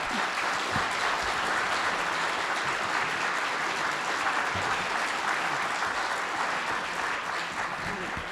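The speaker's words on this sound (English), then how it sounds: "Let's give the candidates a round of applause." An audience at a mayoral candidate forum claps steadily throughout, a dense, even round of applause that neither builds nor fades.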